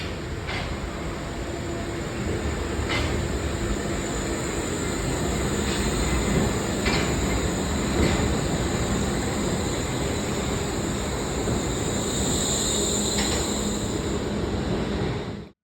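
A Wuppertal Schwebebahn suspended train rumbles and hums continuously at close range, with a broad, even roar and faint high whines and clicks that carry steadily until it cuts off abruptly.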